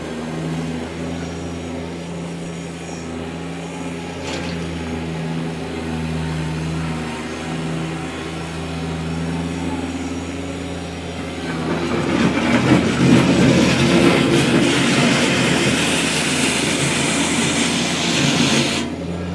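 A 2018 Kubota BX1880 compact tractor engine runs steadily in high range, a low droning hum that swells louder and rougher midway as it is worked harder, with no talking.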